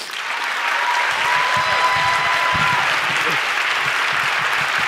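Audience applause at a literary event with Toni Morrison and Junot Díaz, a broad, dense wash of clapping from a large crowd that swells in and holds steady, with a voice speaking over it.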